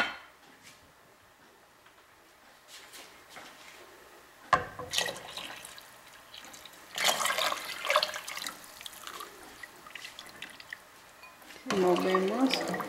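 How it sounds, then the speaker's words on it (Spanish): Evaporated milk being poured into dissolved chocolate for atole champurrado: a liquid stream splashing and gurgling, faint at first, then louder in bursts with stirring, over a quiet kitchen background. "vamos a agregar la leche evaporada"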